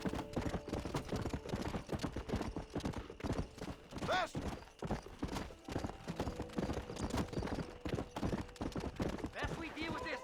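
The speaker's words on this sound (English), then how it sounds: "Agora tem um cavalo de uma polícia." Police horse galloping in Red Dead Redemption, rapid rhythmic hoofbeats thudding throughout, fairly close, with a whinny partway through and someone talking over it.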